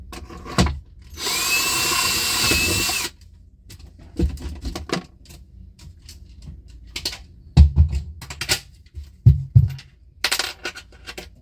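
A power tool drives stainless steel fasteners into battery trays on a boat's bridge deck: one sustained whirring burst lasting a couple of seconds, followed by scattered clanks and knocks of handling hardware.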